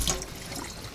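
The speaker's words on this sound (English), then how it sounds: "So I'm just rinsing it with a little water." Tepid tap water runs briefly over a plastic container being rinsed of label residue, a soft, close, steady splash with no talking.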